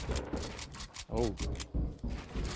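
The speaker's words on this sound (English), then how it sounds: "Reload shotgun" Shotgun reloading in a video game: rapid mechanical clicks and ratcheting shell-loading sounds in quick succession, close and crisp, with a voice speaking briefly in between.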